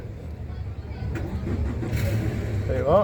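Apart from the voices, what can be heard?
boat engine starting with key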